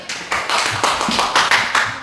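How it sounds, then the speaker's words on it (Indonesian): A classroom of students claps for a classmate: a brief burst of loud, close hand claps in uneven rhythmic clusters, with no talking over it. "Iya, tepuk tangan buat Bayu."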